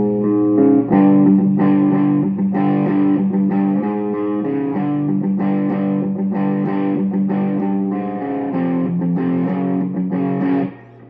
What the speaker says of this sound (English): I'm using a Sunn Enforcer with kind of an overdrive and a Boss Heavy Metal 2 pedal